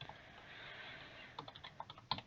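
Typing on a computer keyboard while filling in a spreadsheet cell, a quick run of separate clicky keystrokes that grows denser and louder toward the end over a faint steady background hiss.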